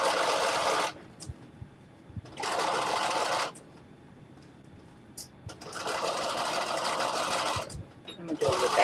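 Domestic sewing machine stitching across fabric, loud rapid whirring bursts separated by short pauses as it starts and stops, with quiet handling sounds between runs.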